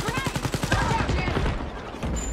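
Rapid automatic gunfire from the shooter Wolfenstein Youngblood rattles in a dense, loud burst lasting about two seconds, with a player's voice faintly mixed in.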